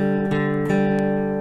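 Guitar strings 3 and 4, the mid-range strings, ring out together in a sustained harmonic tone with a couple of soft re-plucks, close and clear, no voices.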